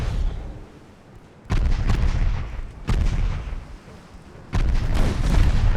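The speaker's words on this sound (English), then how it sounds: "Sees her getting hit by an enemy torpedo." Torpedo strikes on a light cruiser in the naval warship game Ultimate Admiral Dreadnoughts: three heavy booming explosion bursts, each one sudden and loud, then a rumbling decay, with no talk.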